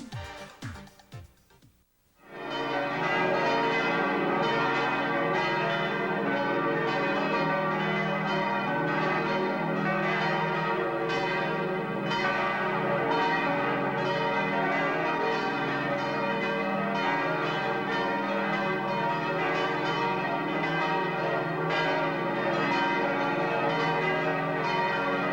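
Church bells ring steadily and resonantly on a Sunday morning in Lucerne, a continuous layered peal with overlapping tones sustained throughout, preceded by a brief different sound at the start.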